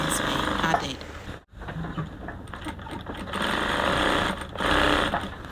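A sewing machine closes the side seam of a kaftan sleeve, running in steady bursts with a brief pause near the start, loud and close, with a voice talking alongside.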